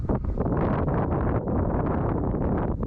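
Wind blowing across golden grass on rolling hills at Glacial Lakes State Park, Minnesota, heard as a loud, continuous buffeting roar that gusts over the microphone.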